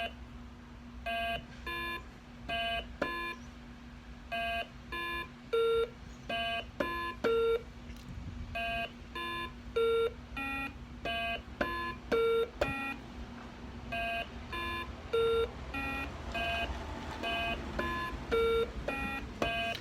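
A Simon memory game plays bright electronic beeps in short, evenly spaced bursts. The tone pattern repeats and grows longer from round to round. A faint steady hum runs underneath, and no one speaks.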